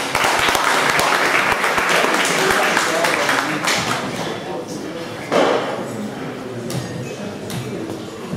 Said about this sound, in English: Still waiting for applause, ladies and gentlemen.